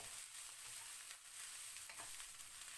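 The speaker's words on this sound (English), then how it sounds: "once you add the rice, you need to constantly stir and flip them so they are all evenly fried" Rice is stir-fried in a wok, a faint but continuous hissing sizzle with soft scraping and tossing strokes, and no voices.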